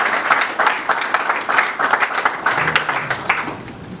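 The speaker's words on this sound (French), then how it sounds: "On applaudit pour M. Pat." Wedding guests applaud at an official marriage ceremony, steady clapping from a modest gathering that carries on for several seconds with no talk over it.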